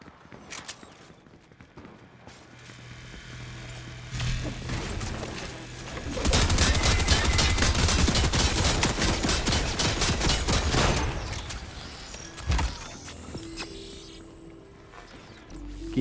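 In Fortnite, an assault rifle empties a full magazine into a turret. A sustained burst of rapid gunfire lasts about five seconds, framed by quieter game mechanisms and clicks, with no voice.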